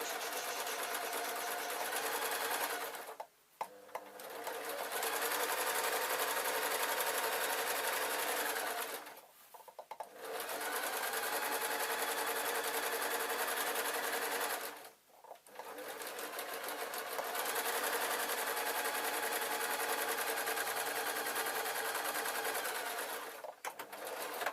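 A sewing machine stitching a trouser waistband lining, running loud and steady in long bursts with three brief stops.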